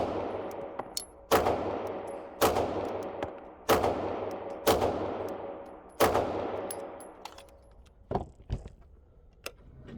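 Archon Type B pistol fired in a rapid string, with sharp shots spaced roughly a second apart, each ringing out with a long decaying tail, followed by a couple of quicker, weaker cracks near the end; loud and close.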